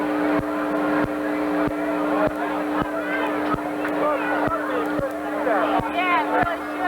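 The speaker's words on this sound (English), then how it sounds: "Kenny Marshall looks him over right now as they come down the home straightaway, paced by the Fulton Chevrolet pace car." Stock cars roll down the home straightaway of an oval track in 1991 behind a Chevrolet pace car, a steady droning engine hum with light ticking, heard under an announcer talking.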